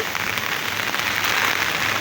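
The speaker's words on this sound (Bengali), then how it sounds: "বৃষ্টির জন্য সাউন্ডটা সমস্যা করতেছে অনেক নয়েস" Heavy rain from Cyclone Remal pouring down on a Dhaka street, a loud, dense and unbroken hiss of drops hitting surfaces.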